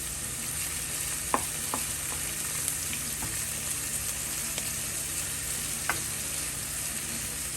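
Vegetables sauté in a pot for a Jamaican Ital stew, giving off a steady, even sizzle with a few light clicks of stirring scattered through.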